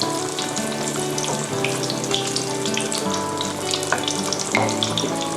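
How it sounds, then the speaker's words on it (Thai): Chicken pieces deep-frying in a pot of oil for Thai fried chicken rice, a dense steady bubbling sizzle that stays loud and continuous, up close with no voices. "เราก็จะปล่อยทิ้งไว้ทอดไปเรื่อยๆนะคะสักพักจะมันเหลืองกรอบนะคะ"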